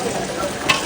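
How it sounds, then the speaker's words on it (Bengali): Potatoes fry in oil in a large temple kitchen at Gobinda temple in Palashbari, Gaibandha, making a brief, dense, continuous sizzle heard up close. "আর ওটা আলু ভাজা হচ্ছে।"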